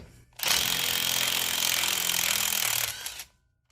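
Impact wrench with a half-inch socket loosening an axle nut on a 2024 Ford F-150 during a leveling kit install, one loud continuous rattling burst lasting about two and a half seconds, close up.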